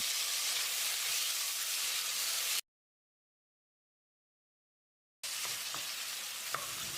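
Chopped tomatoes sautéing in a pan with onions for moong dal pulao, a steady bright sizzle with occasional stirring clicks, cut by a few seconds of silence before the sizzling resumes.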